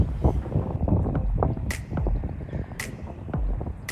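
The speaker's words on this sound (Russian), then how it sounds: "Ветер и тишина" Gusty wind buffets the microphone in a steady rumble at the Kayaköy ghost town near Fethiye, Turkey, with a few sharp whooshing gusts rising above the low roar.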